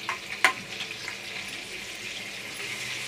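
Butter and oil heating in a pan for homemade pav bhaji give a soft, steady sizzle, with one sharp metallic clink near the start and a few faint taps, close and without speech.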